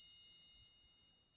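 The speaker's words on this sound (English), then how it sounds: "triangle tap," A Samsung phone ringtone called triangle tap: a bright, sustained metallic ring with high shimmering overtones, sounding alone and slowly fading over about a second.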